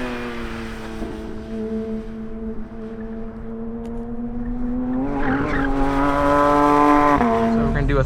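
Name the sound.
Porsche 911 GT3 RS downshifting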